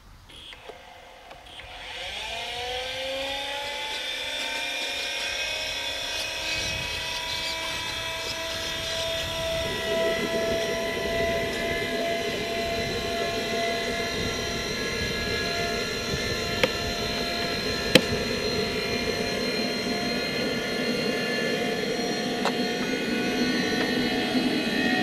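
A LintonJet X80DX model jet turbine spools up from a low whir into a steady, loud whine with rising tonal layers that holds for over twenty seconds, close by.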